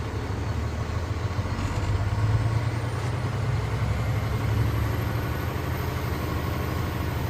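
Paystar 5600 TS truck engine pulling steadily in second gear with no load, a continuous low rumbling drone that swells slightly midway, heard alone without talk.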